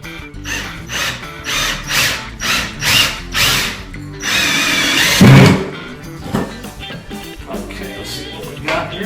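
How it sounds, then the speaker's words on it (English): A power drill drives a screw into a wall to mount a floating desk board, with short whirring bursts and a louder sustained run near the middle, close by with no talk. "So we're going to attempt to screw this in."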